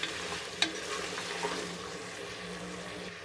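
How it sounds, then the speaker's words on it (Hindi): Mutton masala with red chillies is being fried (bhuna) in a pot, with a soft steady sizzle and a couple of sharp spoon taps near the start. It stays fairly quiet and close with no talking. "अभी हमने सिर्फ इसके अंदर सुरख मिर्चें शामिल करनी है और इसको हमने भून लेना है।"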